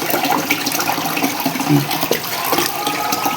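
Water runs and trickles off freshly washed Ganges kajli fish as it drains, a steady close splashing flow with small gurgles throughout the short stretch.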